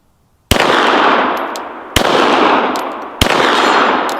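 A plastic Glock 17L is fired three times at a steady pace, each shot a loud, sharp crack followed by a long, bright hiss that fades slowly.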